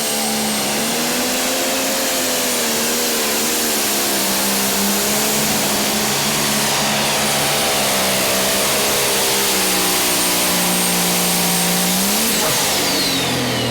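A John Deere pro stock pulling tractor roars loud and close through a continuous high-revving pull at an NTPA Grand Nationals event in Hutchinson, Minnesota, its engine pitch climbing and shifting steadily before a late drop.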